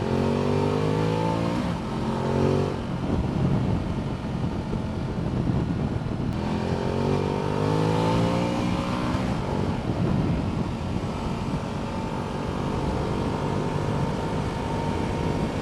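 2015 Ducati Multistrada 1200S in sport mode accelerating hard, its engine note climbing through repeated rising sweeps with pauses between gear changes, loud and close with no talking.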